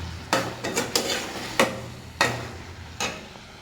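Meat and potatoes fry in a pot as a spoon stirs them, giving a low sizzle broken by about half a dozen sharp scraping knocks against the pot at irregular intervals.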